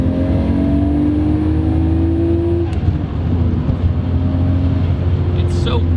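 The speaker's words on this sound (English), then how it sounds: "And the blow-off valve sounds so good at full boost" A Nissan R32 Skyline GT-R engine pulls hard at full boost, a loud, close, steady drone whose tone climbs for a few seconds and then drops away, with a short hiss of released air as the throttle lifts.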